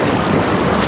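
Jacuzzi jets kick on, a dense, loud rush of bubbling water and air churning steadily throughout, with no voices over it.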